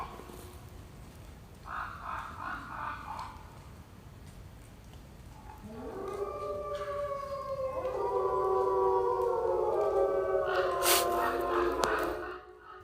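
Polar wolves howling at night at a wolf park, several long overlapping howls swelling together into a chorus, with a person talking quietly beneath them.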